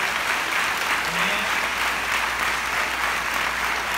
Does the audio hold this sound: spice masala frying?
no